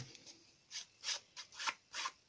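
Paper edges scraped with a distressing tool give a series of about five short, dry rasping strokes at an uneven rhythm, close and fairly quiet, with no talking.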